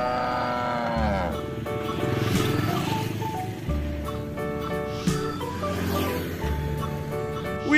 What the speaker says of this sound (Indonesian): Wow, ada sapi perah teman-teman.